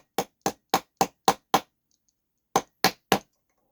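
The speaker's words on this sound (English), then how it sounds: "Peen it with the hammer." A small hammer peens nails into the hull planking of a clipper ship model, giving nine close, crisp taps: six quick evenly spaced strikes, a pause, then three more, with nothing else heard.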